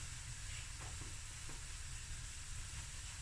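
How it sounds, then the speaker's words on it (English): Onions fry in a pan over medium heat, giving a steady, soft sizzle that stays even and faint throughout, with no voices. "I'm going to let this fry for about 10 minutes on medium heat"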